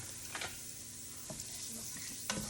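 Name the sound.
stirring chopped fresh fennel in a pan for ragu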